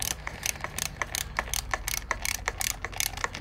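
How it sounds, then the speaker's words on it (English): A torque wrench ratchets on a bicycle seat post clamp bolt, giving a fast run of crisp mechanical clicks in short bursts, close and clear, with no voices. "pinch up your bolt to, it says on here, 6 Newton meters"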